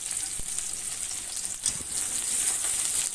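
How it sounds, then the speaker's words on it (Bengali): Chopped onions dropped into hot oil with bay leaf and cumin tempering for a Bengali jackfruit curry sizzle steadily and close, with a few soft stirring bumps and no talking. "পেঁয়াজ কুচিগুলোও দিয়ে দিচ্ছি"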